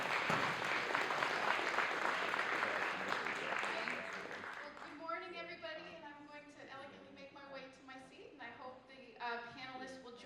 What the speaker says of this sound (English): Please clap it up for Christina Heatherton.